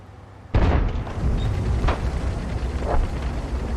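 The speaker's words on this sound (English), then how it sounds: "our Arty is continuing to fire" Artillery firing in the tank game World of Tanks, a sudden heavy boom followed by rumbling battlefield noise and a couple of softer distant thuds.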